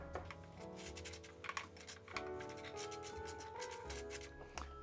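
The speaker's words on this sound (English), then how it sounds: "just going to put a little bit of butter on it" Knife scraping butter across toast on a plate in a home kitchen, repeated close rasping strokes in an uneven rhythm, fairly loud and heard alone without speech.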